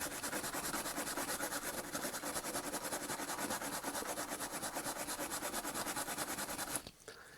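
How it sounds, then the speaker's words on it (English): A brass brush scrubs oxidation off metal parts of old Redline hardware in fast, rhythmic back-and-forth strokes, a close, steady scratchy rasp that stops abruptly near the end. "I'm going to take this brass brush. I'm going to just give it a little scrubby scrub here."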